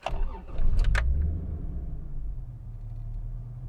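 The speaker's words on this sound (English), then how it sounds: "the lazy 6-cylinder engine firing into life" A Toyota six-cylinder car engine cranks and catches, settling into a low steady idle rumble after a brief whir of the starter.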